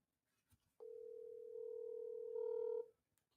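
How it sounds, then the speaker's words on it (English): A phone line sounds a single long steady tone after a number is dialled, close and clean, rising slightly in level partway through before cutting off, with a faint click before it. "It's ringing."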